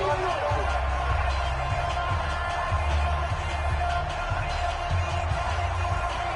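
A dense, steady roar of stadium crowd noise rising and cheering in an American football video game, sustained throughout with a rumbling low end.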